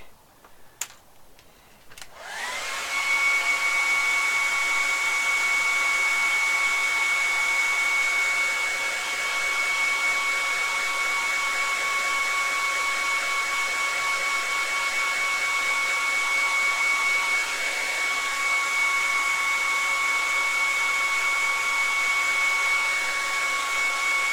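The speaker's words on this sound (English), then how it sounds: "another quick blast with the hair dryer, I think." A hair dryer switches on after a couple of clicks and blows steadily with a high whine, loud and close, running continuously without any talking.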